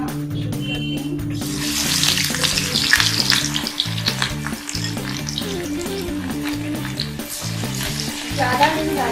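Mutton chops crackle and spit loudly in hot oil, a close, dense frying sizzle that holds throughout beneath steady background music.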